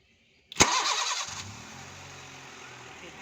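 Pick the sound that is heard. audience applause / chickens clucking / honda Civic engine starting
honda Civic engine starting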